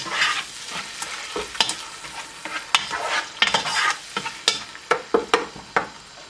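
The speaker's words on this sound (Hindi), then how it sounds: "इसको हल्का सा स्टर कर लेते हैं ताकि बाकी के मसाले भी इसके साथ मिक्सअप हो जाएं।" A spoon stirs chopped canned tomatoes and spices in a sizzling pan for homemade baked beans, giving a soft frying hiss broken by repeated sharp scraping clinks of the spoon against the pan, close and clear.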